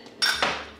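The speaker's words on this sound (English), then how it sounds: "let me try to stir this" A utensil clanks and scrapes against a pot of vegetables with cumin, sage, chives and parsley, two brief metallic knocks ringing out close and clear with no talk.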